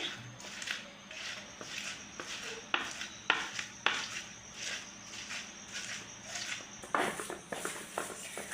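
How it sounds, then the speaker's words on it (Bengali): Fried potatoes and pointed gourd being ground into a paste, heard as quiet rhythmic scraping and knocking strokes with occasional clinks, close and faint, with no speech. "এখন এগুলো বেটে নিচ্ছি।"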